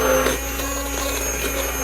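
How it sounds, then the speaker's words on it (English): Constant motor whine of an immersion blender running at steady speed, loud and close, with no voices over it. "this is an immersion blender."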